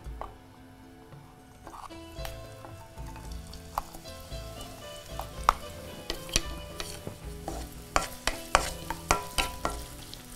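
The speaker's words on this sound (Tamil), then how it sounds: "இப்போ இதில் வந்து முதல்ல நம்ம சேர்க்க போகிறது வெங்காயம்." Onions sautéing in a pan, a quiet sizzle with a series of clicks and scrapes from the stirring spoon that grow more frequent and louder toward the end.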